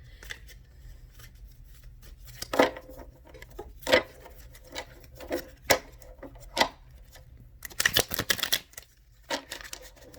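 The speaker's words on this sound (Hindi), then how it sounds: "मैं हमेशा सामने शफल करती हूँ।" Tarot cards being shuffled by hand, soft irregular taps and flicks spread across the clip, with a dense fluttering riffle of cards near the end.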